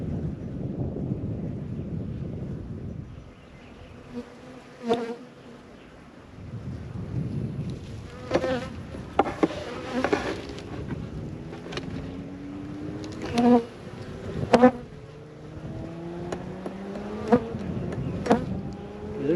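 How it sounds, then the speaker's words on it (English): Honeybees in a hive with fifteen frames, a dense, steady hum running throughout with individual bees droning close by, their pitches sliding past in the foreground. "15 frames of bees in this thing."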